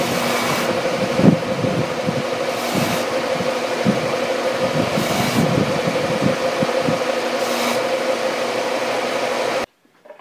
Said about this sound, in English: Okay, so a little touch on the sander